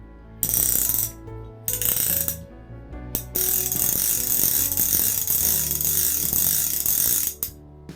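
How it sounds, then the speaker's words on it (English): Fast ratcheting clicks of a fly reel with no drag beyond its clicker, spun in bursts, a steady buzzing rattle broken by short pauses, close and loud with no voices. "the noise is about the only drag that this reel has"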